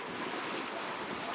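Ocean surf washes against the quays of Cité Soleil in Port-au-Prince, Haiti, a broad continuous roar of breaking water mixed with wind buffeting the microphone, steady and close, with no voices.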